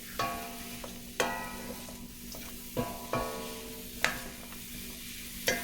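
Chopped onion, celery and crushed garlic sizzle softly in a pot for a potato corn chowder, with a spoon scraping and tapping the pot about five times at a loose, unhurried pace.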